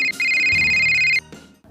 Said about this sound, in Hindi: हमारे असाइनमेंट डेस्क पर बजी फोन की एक घंटी के साथ।